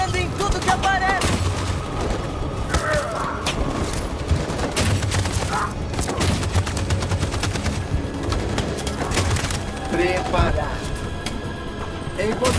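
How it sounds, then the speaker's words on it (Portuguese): A machine gun fires in Detroit: Become Human, with rapid continuous bursts and scattered shots over a dense, loud battle scene while voices shout in Portuguese. "A metralhadora está atirando em tudo que aparece!"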